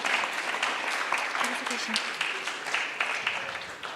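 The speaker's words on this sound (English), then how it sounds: "I request the audience to give a huge round of applause to our panel members." Panel members at a university executive council forum receive audience applause, a dense steady patter of many hands clapping at moderate volume, with faint voices mixed underneath.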